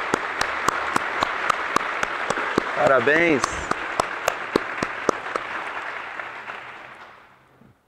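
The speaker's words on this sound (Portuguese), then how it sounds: "Salva de palmas ao nosso coral" A church congregation applauds its choir with a blended clatter of hands. A few sharp, regular claps stand out above the rest, and a voice speaks briefly in the middle. The applause thins and fades out toward the end.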